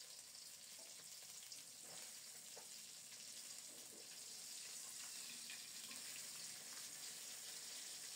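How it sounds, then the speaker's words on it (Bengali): Pabda fish fry in hot oil with a soft, steady sizzle and hiss, faint and even throughout, with no talking. "কত সুন্দরভাবে ভাজা হচ্ছে দেখুন।"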